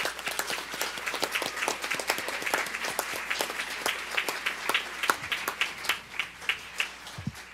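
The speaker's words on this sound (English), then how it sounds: "let's just give them a round of applause" Sustained applause from an audience at a school district board meeting honoring a girls soccer team, a steady wash of many hands clapping that thins toward the end into a few scattered, distinct claps.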